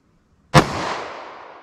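A single close, loud gunshot from a handgun with a 2-inch barrel, fired as a test round, with a sharp crack followed by a long, fading outdoor tail.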